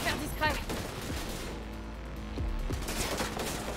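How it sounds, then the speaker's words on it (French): Gunfire in the video game Cyberpunk 2077, bursts of shots mixed with game music and ambient noise, continuous and moderately loud throughout. "J'ai entendu des coups de feu."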